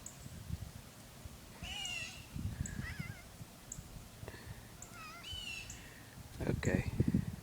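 A cat meows several times, short and fairly faint, outdoors near a house and garden, while a person calls to it between the meows.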